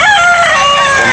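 A rooster crows once, loud and close, a single drawn-out call at a Cebu chicken market.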